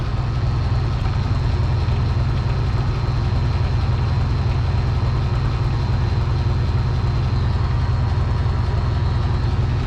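An Oliver 880 tractor engine with a newly replaced carburetor runs steadily, a loud, continuous low rumble at an even idle throughout with no break and no voices.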